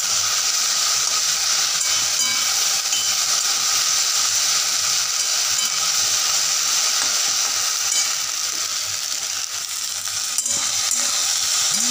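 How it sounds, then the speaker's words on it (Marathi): Okra with onion and tomato fries in hot oil in a kadhai, giving a dense, steady sizzle that stays loud and unbroken from start to finish, with no one speaking. "आपण कढईमध्ये तेल, कांदा, टोमॅटो व्यवस्थित भाजून त्याच्यामध्ये भेंडी टाकलेली आहे."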